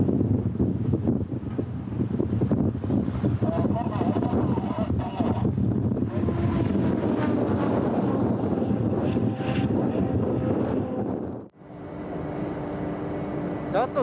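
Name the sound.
strong gusts of wind on fast car run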